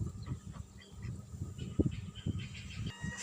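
Ducks in a village yard give soft, scattered quacks and honking calls at a moderate distance over faint background noise.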